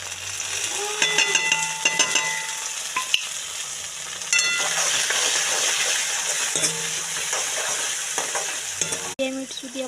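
Tomatoes tipped into browning onions in a pan fry with a steady close sizzle, broken by repeated scraping stirs and clinks of a spoon against the pan, with no talking.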